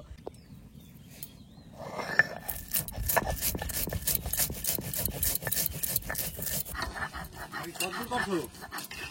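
Roasted cumin and coriander seeds ground by hand for a snakehead fish and taro curry, a steady run of rhythmic rubbing and scraping strokes up close, with a faint voice at the start.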